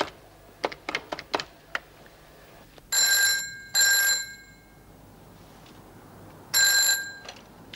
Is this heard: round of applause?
no